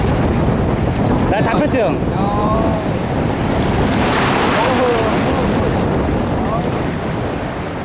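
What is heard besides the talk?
strong ocean waves on the shore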